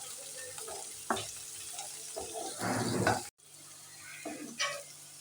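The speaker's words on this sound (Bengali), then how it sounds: "এখানে আমার ক্যাপসিকামগুলো খুব ভালোভাবে ভাজা হয়ে গেছে" Capsicum fries in oil in a pan, giving a soft crackling sizzle with brief bursts of stirring and clatter that swell and fade, then a short break.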